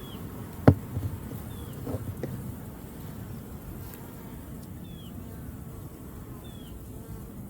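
Honeybees around an opened hive with brood frames, a faint, low, steady buzzing hum running throughout, with a sharp knock near the start and a few soft handling noises.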